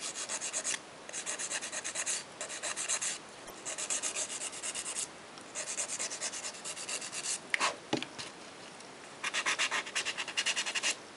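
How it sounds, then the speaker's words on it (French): A powder gel fingernail is filed into shape with quick, rhythmic back-and-forth rasping strokes, close and fairly quiet, in bursts separated by short pauses, with no talking. "on va donc au limage, bien mettre en forme"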